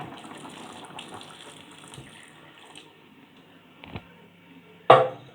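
Hot boiling water poured into a pot during home cooking, a soft running splash that thins out, followed by a couple of sharp knocks or clatters near the end.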